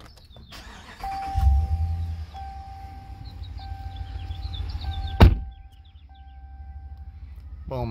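Push-button start of a 2019 Dodge Ram 1500 Big Horn: a repeating electronic chime tone, an engine cranking to life with a sharp thump, then a steady idle rumble, near and clear with no talking.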